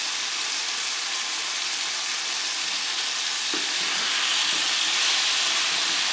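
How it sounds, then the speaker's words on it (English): Zucchini sautés in hot oil with a steady, close, loud sizzling hiss that swells slightly toward the end. "I'm going to turn it down, because that's sauteing pretty well."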